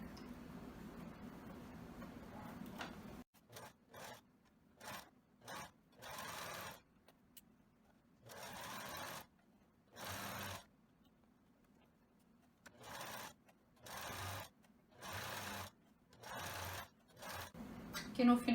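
A sewing machine zigzag-stitches wide elastic in repeated short bursts separated by pauses, each run a steady mechanical whir, with someone speaking softly between the stitching runs.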